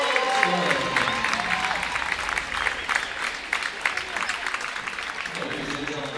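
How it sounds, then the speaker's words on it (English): A crowd at a high school boys basketball game applauds a senior, Ian Robinson, with sustained clapping and some cheering filling the gym, while a voice talks over it near the end. "please help me with one more large round of applause to our class of 2024 Warriors"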